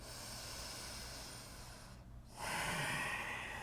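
A slow, audible breath during a yoga flow, a long soft airy hiss that dips briefly into a short pause and then swells into a louder, fuller exhale.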